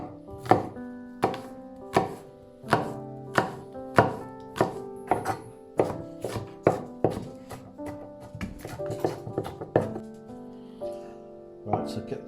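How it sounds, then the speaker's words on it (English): A knife chops an apple roughly on a board, about fourteen sharp, evenly spaced thunks close to the microphone, with a busier, quicker run of cuts near the end. "so chop the apple. Can be roughly chopped at this stage."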